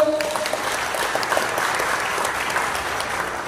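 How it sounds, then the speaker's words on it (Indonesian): Loud, steady applause from a crowd at a press conference, with dense clapping that holds for a few seconds without pause. "Tepuk tangan."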